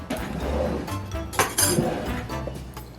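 A spoon clinking against a dish while a vintage Jell-O under-the-sea salad is handled, giving a few bright, close metallic taps and scrapes at irregular intervals.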